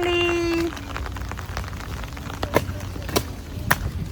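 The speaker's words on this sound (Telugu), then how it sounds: "వర్షం పడుతుంది." Rain falls steadily in a continuous hiss across the whole stretch, with a few sharper drips and knocks and a short tonal beep at the start.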